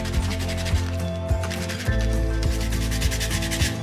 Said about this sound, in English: And it also said to sand this inner seal.